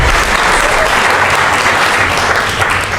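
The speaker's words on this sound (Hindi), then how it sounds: "अच्छी सी तालियां बजाइए" An audience at an open-mic poetry gathering claps loudly and continuously, a dense, close burst of applause with no break.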